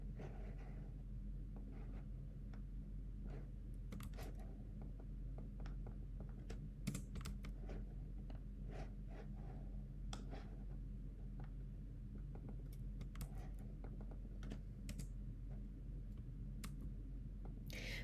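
A proxy username and password typed on a computer keyboard: quiet, irregular key clicks in short bursts over faint room hum, with no talk.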